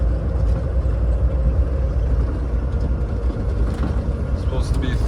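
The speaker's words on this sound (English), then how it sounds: "Trucks are here." Trucks arriving at a harvest field where combines are working, a constant loud low engine rumble filling the scene with talk over it.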